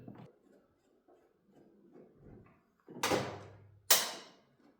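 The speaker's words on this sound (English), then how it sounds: "Now let's go and see if we can take the door off." Work on the door of a rusted 1973 Volvo 144 barn find: faint metallic handling and shuffling, then two sharp, loud clunks a second apart as the heavy door panel shifts, close by and without talk.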